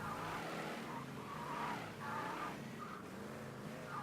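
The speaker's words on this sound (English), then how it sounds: "what I'm going to do is park this car" Tires skid and squeal as a car is brought to a stop to park in the Mafia 3 video game, a loud continuous screech with engine noise, no speech.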